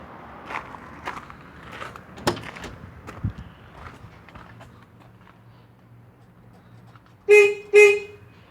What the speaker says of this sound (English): I'm going to go ahead and use the horn switch to see if it operates with the horn switch on the steering wheel.